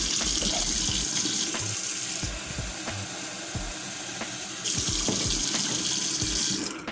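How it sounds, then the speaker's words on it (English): A kitchen tap runs steadily into a sink, a close, continuous splashing water stream with faint clicks and knocks, tapering off right at the end. "So I'm gonna go ahead and get some water."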